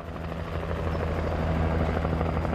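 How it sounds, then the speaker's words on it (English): A helicopter flies in the video game Alan Wake, its rotor throbbing in a loud, steady, rapid beat that holds throughout, close and alone with no speech. "Did the helicopter just warp there for a second?"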